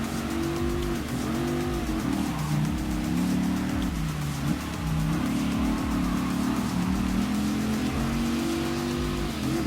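A JDM tuner car drifts in Gran Turismo Sport, its engine droning loud and continuous with shifting revs, mixed with tire squeal throughout.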